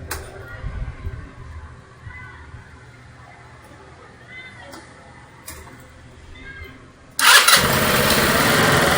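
A motorcycle engine fires up during fuel injector cleaning with a drip-feed cleaner kit, going from quiet workshop noise to a loud, steady idle roar in the last couple of seconds.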